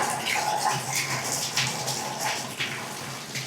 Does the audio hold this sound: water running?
yes